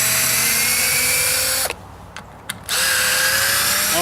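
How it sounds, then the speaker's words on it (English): A power drill whines loudly at a steady pitch while working on a homemade poured concrete pathway project, cuts out for about a second with brief bursts, then spins back up. "Oh no, don't die now, drill, I need you."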